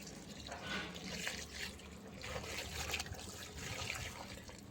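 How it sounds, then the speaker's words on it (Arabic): Water pours steadily onto peat moss in a container to saturate and loosen it for home planting, a continuous soft splashing trickle in uneven surges with no voices. "هبتدي ازود مياه كمان، كميه مياه عشان اقدر اشبع التربه"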